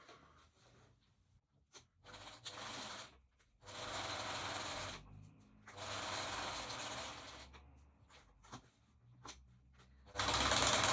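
Sewing machine stitching the top of a drawstring bag onto its lining panel, running in several bursts of steady whirring separated by short pauses, close and fairly loud, with no talking.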